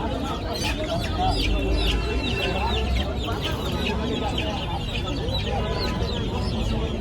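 Chickens and roosters at a busy bird market cluck and squawk in overlapping bursts, loud and close, over a constant murmur of crowd noise and people talking.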